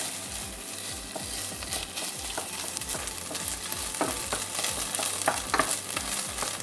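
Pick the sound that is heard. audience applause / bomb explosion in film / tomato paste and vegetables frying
tomato paste and vegetables frying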